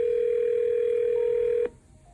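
Steady dial tone from a cell phone on speaker, a single continuous mid-pitched hum that holds loud for about a second and a half, then cuts off abruptly into faint room noise.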